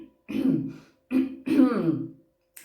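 Throat clearing in three rough, throaty bursts in quick succession, close and fairly loud, with short silences between and no speech.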